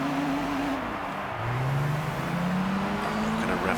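A racing car engine in Gran Turismo 3 drones steadily throughout, its pitch sliding down and then climbing again as it accelerates against a PT Cruiser, with a continuous loud whine and no talking.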